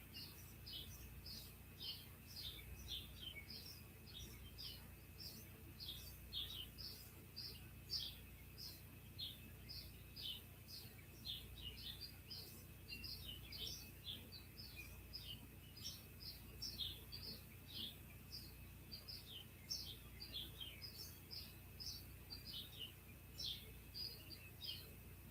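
Many small birds chirp and twitter steadily outdoors in a natural setting, a dense continuous chorus of quick high calls at moderate distance over a low ambient hum, with no voices.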